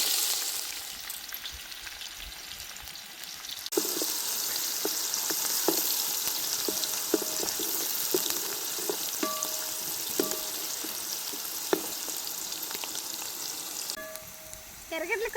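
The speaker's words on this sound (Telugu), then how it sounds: "ముందుగా సన్నగా తరిగి పెట్టుకున్న ఎర్రగడ్డ ముక్కలు వేస్తాను" Finely chopped onions added to hot oil with cumin and mustard seeds for stingray fish puttu. After a quieter start, a loud, dense sizzle bursts in and holds steady with occasional spatula ticks, easing off near the end.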